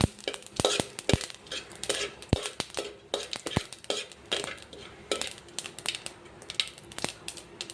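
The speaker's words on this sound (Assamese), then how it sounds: "গোটা জিৰা দি এইখিনি অলপ সময় লৰাম" Panch phoron and whole cumin being stirred in a pan while cooking a mustard fish curry, giving irregular clinks and scrapes of a utensil against the pan, moderately close, with no talking.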